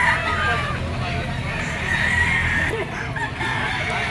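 A yellow-legged straight comb stag rooster crows and clucks close by, short and sharp, amid nearby voices and background chatter.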